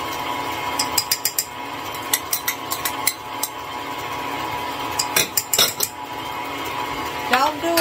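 Butter and sugar being creamed for banana nut bread, a utensil scraping and clinking against a bowl in quick irregular taps close up, with a steady hum underneath.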